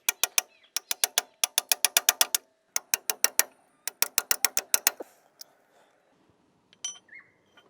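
A socket is hammered to drive an inner axle oil seal into a Landcruiser swivel hub, giving rapid sharp metallic taps in quick bursts with short pauses, then a couple of softer knocks as it stops.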